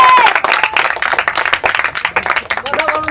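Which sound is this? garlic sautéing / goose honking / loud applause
loud applause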